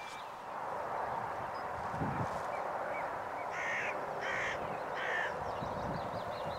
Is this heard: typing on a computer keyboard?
no